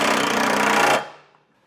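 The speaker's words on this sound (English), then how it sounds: "I'll go through and tighten and torque all these down" A power tool whirs loudly and steadily for about a second, then spins down and stops while snugging trailer hitch bolts with an 11/16 socket on a 2025 Toyota Corolla.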